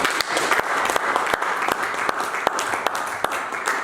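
Church congregation applauding steadily throughout, a dense wash of clapping with a few sharper individual claps standing out, fairly close and loud with no talk over it.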